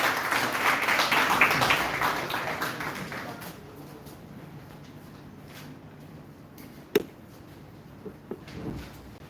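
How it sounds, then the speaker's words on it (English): Audience applause at a college event, a broad wash of clapping that swells in the first few seconds then fades away, leaving a quiet room with a few isolated taps and knocks. "A round of applause, everyone."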